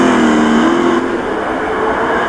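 A racing car's engine roars steadily at high revs down a straight, pulling past a Corvette in a muscle car racing game, loud and continuous with a slight drop in pitch partway through.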